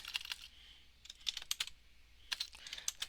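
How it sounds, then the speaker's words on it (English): Someone types on a computer keyboard nearby, with quick bursts of light clicking keystrokes separated by short pauses, soft and steady with no talking. "I can type"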